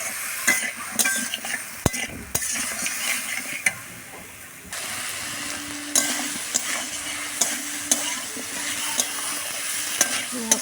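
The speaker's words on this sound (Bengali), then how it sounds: "দিয়ে ভালো করে কষে নেব।" Spice paste loosened with a little water sizzles steadily in a pan for a Bengali stalk curry, broken by repeated scraping and clacking strokes of a spoon stirring it, close and moderately loud.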